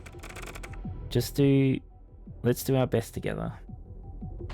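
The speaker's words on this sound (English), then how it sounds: "Is the typing sounds okay" Computer keyboard keys are typed in quick irregular clicks, soft and close, while a voice speaks over them in short bursts.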